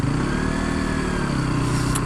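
A 2015 KTM RC 125 motorcycle engine drones steadily while riding in fifth gear at about 52, a loud, continuous buzzing hum with wind noise and no break.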